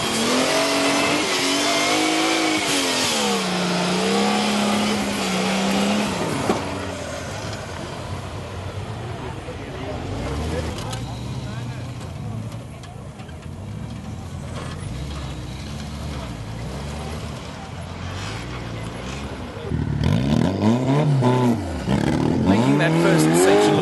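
A modified 4x4 off-road vehicle tackles an obstacle course at a national 4x4 challenge, its engine revving and labouring in rising and falling surges, loud and close, with commentary talk running over much of it.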